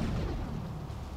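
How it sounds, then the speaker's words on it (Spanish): A single low, booming gunshot from the video game Grand Theft Auto 3 rings out over a dense rumbling background, with no talk over it. "disparo."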